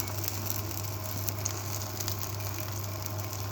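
Faint, steady sizzling and light crackling of mustard seeds popping in hot oil, close by, over a constant low hum; no talking.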